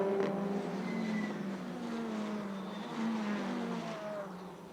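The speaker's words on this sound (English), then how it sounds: "Look at these two Hyundais all over the back of Oriola's car" TCR touring race cars, including Hyundais, racing at Le Castellet in the 2020 TCR Europe round, their engines droning steadily and close together, loud and continuous with shifting pitch as the pack runs on.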